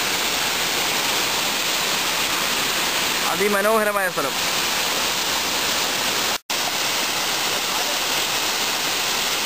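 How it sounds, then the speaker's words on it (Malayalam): Water pouring from the Peechi Dam spillway makes a loud, constant broadband roar that fills the scene, and a brief spoken phrase rises over it. "പീച്ചി ഡാമിൻ്റെ വെള്ളം വീഴുന്ന ഭാഗത്താണ് നമ്മൾ നിൽക്കുന്നത്."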